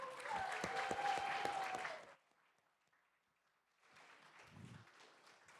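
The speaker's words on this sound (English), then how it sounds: "Can we get another round of applause for our interns" Audience applause for interns at a symposium rings out for about two seconds, then fades to quiet before a softer patter of clapping returns; faint and somewhat distant.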